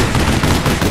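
Rapid gunfire rattles loud and close in the online shooter APB Reloaded, a dense burst of shots filling the whole second with no talking.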